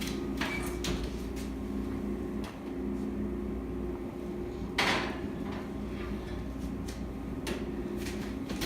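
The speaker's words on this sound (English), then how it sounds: "our second to last step is to put it in the oven" A brownie pan going into a home kitchen oven with the oven door handled, a few clattering knocks and bumps, one louder clunk partway through, over a steady appliance hum.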